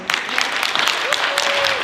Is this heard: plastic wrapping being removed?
no